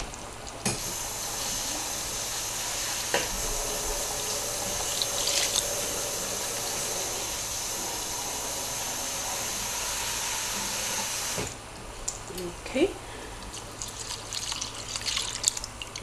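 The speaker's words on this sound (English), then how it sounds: "Let me add some water." Water pours in a steady stream into a pot of rinsed rice for yellow rice with red kidney beans. The close, even hiss runs for about eleven seconds, then cuts off to quieter kitchen sounds.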